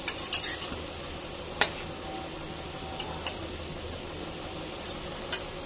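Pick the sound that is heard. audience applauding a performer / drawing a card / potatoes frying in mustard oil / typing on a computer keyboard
potatoes frying in mustard oil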